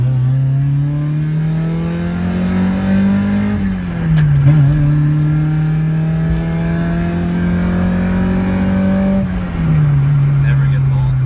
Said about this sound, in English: Time for a Miata pull.